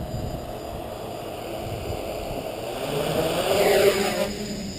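Locust MF-YX 450 quadcopter, a 4S multirotor, spins up its motors for takeoff outdoors: a steady whirring hum that rises in pitch and loudness as it climbs, with wind noise underneath.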